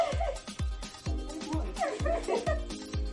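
A four-month-old dog barks in a rapid series of short, sharp yaps mixed with whimpers and yips, close and insistent, with a voice talking over it at a seaside outing.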